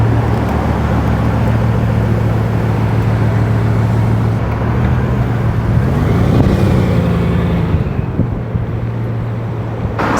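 Bugatti Veyron hypercar driving slowly toward a transport trailer on a London street, a steady low engine drone under wind and outdoor noise, shifting in pitch as it moves along.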